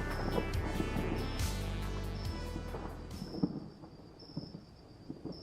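Thunder rumbles with steady rain in an indie horror video game, a deep roll swelling early then easing, while a faint high electronic tone hums over the downpour and scattered game sounds tick in the background.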